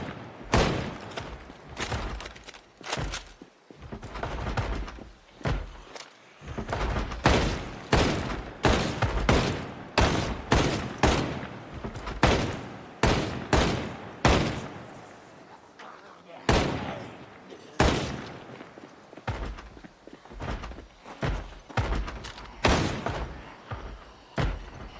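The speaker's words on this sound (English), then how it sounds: "I'm taking a few blind shots there." Shotgun blasts ring out in the zombie survival video game Project Zomboid, sharp booming reports repeating in irregular bursts throughout, loud and close, mixed with thuds and someone talking over much of it.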